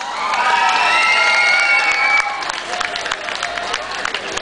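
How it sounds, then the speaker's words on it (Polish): Crowd at a town festival (Dni Zawiercia 2011) cheering and applauding as a singer is welcomed to the stage, a loud sustained roar with bright whistles and shouts that fades into scattered cheers and claps. "Wielkie brawa dla Kasi."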